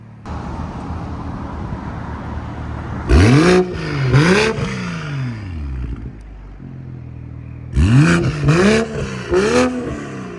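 A 2022 BMW M340i with a 3.0L turbo inline-six and Valvetronic down-pipe-back exhaust, valve open. A deep idle rumble is broken by two sharp throttle blips, then a quieter pause and three more loud revs, close by.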